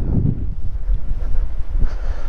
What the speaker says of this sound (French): je me tourne parce qu'il y a du vent